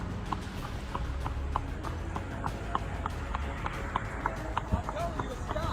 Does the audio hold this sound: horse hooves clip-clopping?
yes